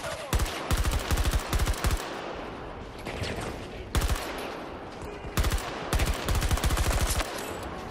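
Battlefield 2042 gunfire on PS5, loud rapid automatic bursts in several groups separated by short pauses, with sharp close cracks and a quieter battle din between them.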